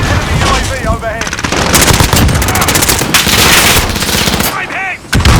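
Rapid automatic gunfire and bursts of shots in a Call of Duty Modern Warfare multiplayer match, loud and sustained nearly throughout, with short gaps and faint voice callouts mixed in.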